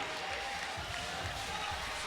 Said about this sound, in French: Une bonne main d'applaudissements, les filles.